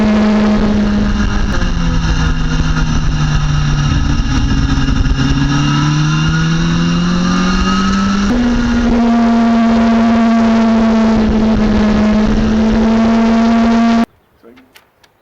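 A motorcycle engine revs as a loud, continuous drone that rises and falls in pitch, settles into a steadier tone, then cuts off abruptly, leaving near silence.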